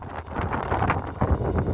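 Wind by the sea buffets the microphone in uneven low gusts and rumbles, with a few stronger blasts, loud and close throughout.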